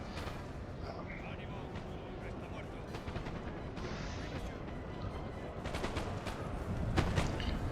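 Musket volleys crackle through a Napoleon: Total War online battle, with dense overlapping gunfire and booming shots forming a steady roar that swells louder toward the end, while a voice talks over the fighting.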